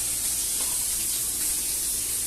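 Pork frying in hot oil, with a dense, steady, close-up sizzle and spatter that hisses continuously without a break.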